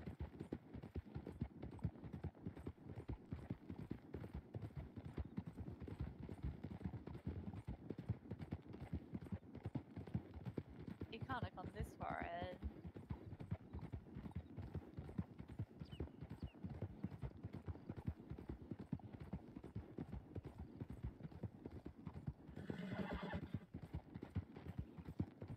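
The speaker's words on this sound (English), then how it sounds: "I hear horses down." Horse hooves clip-clop steadily throughout in a roleplay video game, a continuous rhythmic trotting at moderate distance, with a brief horse whinny partway through and another snort or neigh near the end.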